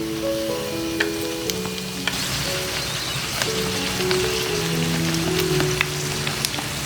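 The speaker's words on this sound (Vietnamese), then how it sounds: "Mình cứ chiên áp chảo trên cái mức lửa nhỏ và lật trở đều hai mặt." Flour cakes fry in a pan over low heat, giving a steady, dense sizzle with scattered crackles and pops and a faint clink of utensils now and then. No one speaks.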